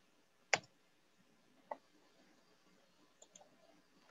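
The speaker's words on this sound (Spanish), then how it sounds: "voy a dar doble clic" Computer mouse clicks on a desktop while designing a UserForm, with a sharp click near the start, another isolated click a second later, then a quick faint double click and a final click at the end, all alone in a quiet room.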